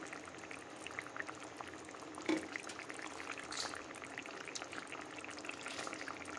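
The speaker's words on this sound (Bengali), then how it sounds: "এবার এতে আমরা ভেজে রাখা মাছগুলোকে সব দিয়ে দেবো।" Fried foli fish slid into a pot of simmering fish curry with green chillies, giving a soft splash and a steady bubbling, sizzling boil that carries on quietly throughout.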